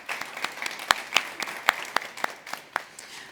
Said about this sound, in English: Let's give her another clap.